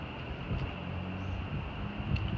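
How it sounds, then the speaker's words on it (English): Steady wind rushes with a low rumbling roar, fairly even and unbroken, with a faint whistling tone running above it. "That's how hard the wind's blowing."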